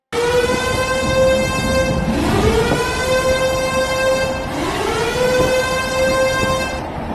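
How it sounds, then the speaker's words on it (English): A warning siren blares loudly, its tone rising and falling in long sweeping cycles that repeat without a break. "the storm siren blares its warning"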